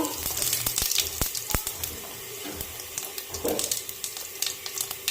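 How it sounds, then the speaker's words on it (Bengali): Cumin seeds sizzle in hot oil in a wok, a soft crackling fry with sharp clinks and splashy water-like noise from the kitchen around it. "হালকা একটু জিরা ফোড়ন দিয়ে দেব"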